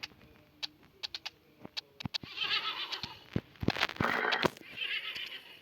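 A horse neighs and whinnies in the Roblox game Brookhaven. Sharp clicks come first, then louder, rougher bursts of whinnying in the second half. The sound is moderately close and there is no talking.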